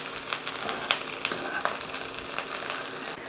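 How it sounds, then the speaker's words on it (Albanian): Eggplant pieces frying in sunflower oil in a pan, a steady close sizzle and crackle with a few sharp pops scattered throughout and no talking. "Në një tigan kam hedhur pak vaj lule dielli edhe tashmë do shtoj patlıxhanët për të skuqur."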